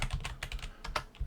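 Fingers type on a computer keyboard while entering paragraph text into a WordPress page, producing a quick, steady run of close, crisp key clicks with no talking.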